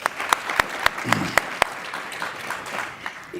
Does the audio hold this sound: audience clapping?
yes